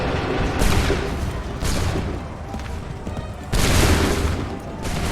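Musket volleys in Assassin's Creed 3 Remaster on PlayStation 4 Pro, three loud crackling fusillades of many guns firing together, each breaking into a rattling roar that decays before the next, with no talk.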